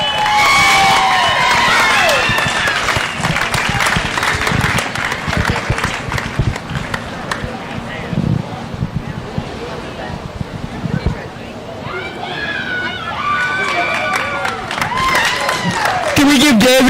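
A crowd at a county fair junior livestock showcase applauds and cheers at length, with whoops and whistles throughout, under and around loud talking voices.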